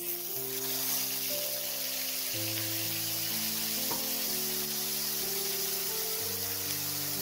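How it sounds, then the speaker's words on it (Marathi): Paneer masala gravy fries in hot oil with a continuous soft sizzle and hiss, heard close under a steady layer of background music. "आता ती गरम तेलामध्ये आपण छानपैकी फ्राय करू"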